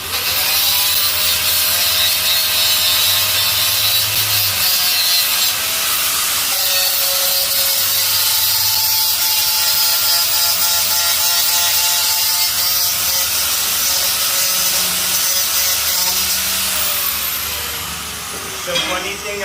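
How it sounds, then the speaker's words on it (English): A grinder working on wood, a loud continuous high hiss and whine that holds steady for most of the stretch, close to the listener, with no clear speech. "Yeah, I love that grinder."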